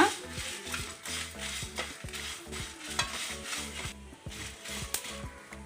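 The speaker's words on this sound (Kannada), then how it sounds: "ಎಲ್ಲ ಮಸಾಲವನ್ನು ಚೆನ್ನಾಗಿ ಬಿಸಿ ಇದು ಮಾಡಿ ಫ್ರೈ ಮಾಡಿ" Masala fries on a low flame in a pan for a suvarna gedde and chickpea curry, with a soft continuous sizzle and rhythmic scraping stirs with clinks, heard close and fairly quiet.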